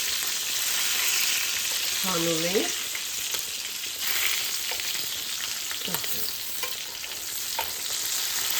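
Bulgarian bell pepper fries in a pan with a strong, continuous sizzle and crackle from start to finish. A voice briefly speaks over the sizzling.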